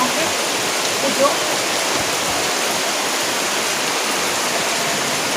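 Steady rain falls outdoors at an Indonesian cookout where rice and fish are being cooked, a dense, even hiss filling the scene throughout with no breaks.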